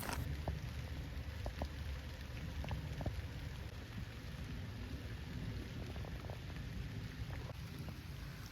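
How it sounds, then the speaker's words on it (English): Heavy rain falls steadily and densely on a forest trail along the Whispering Pine Nature Trail in Caledonia State Park, with scattered sharper drops and no voices. "It's raining pretty heavy today."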